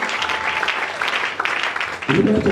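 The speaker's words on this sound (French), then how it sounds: "Acclamons pour le Seigneur." A church congregation claps together in a dense, steady burst of applause, with voices mixed in underneath and a louder swell near the end.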